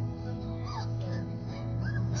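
Several puppies whimpering and yelping during a rescue, high thin cries rising over a steady low hum, fairly close.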